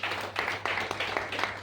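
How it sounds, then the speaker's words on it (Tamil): A small audience at an indoor talk breaks into a short round of applause, heard as faint rhythmic clapping at a moderate distance. "இதுக்கு ஒரு சிறப்பான ஒரு கைத்தட்டல் கொடுங்க"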